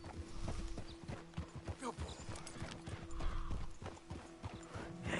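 Horse hooves clip-clop at a steady walking rhythm in the Red Dead Redemption 2 video game, close and continuous over low game ambience, with a faint whinny and no talk.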